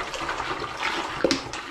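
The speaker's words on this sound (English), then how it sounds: "I'm going to begin by putting the rest of this 2-litre bottle of spring water into the" Spring water poured from a 2-litre bottle into a home-brew fermenter, a steady splashing gurgle of liquid with a few glugs near the end, close and moderately loud.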